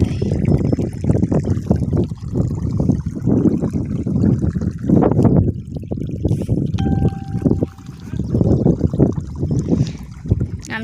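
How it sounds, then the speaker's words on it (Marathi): Water flowing while pumpkin plants in a vegetable plot are watered: an uneven, gushing splash and trickle that surges and eases, close up, with wind buffeting the microphone. "भोपळ्याला पाणी देत आहे."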